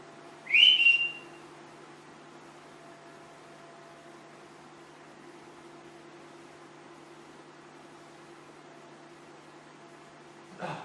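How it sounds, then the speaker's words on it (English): A single short, high whistled note rises and falls early on, followed by a steady hum of background noise and a faint brief sound at the end. "I heard a whistle."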